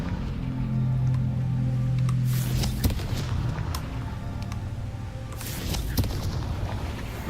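Confringo blasting spell explosions in Hogwarts Legacy: a couple of deep, booming blasts with rumbling tails over a steady background of game ambience and music.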